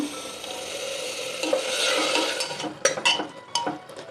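Onion paste frying in a pan while being stirred, with a moderate sizzle swelling midway and then a few distinct scraping and clinking utensil strokes toward the end.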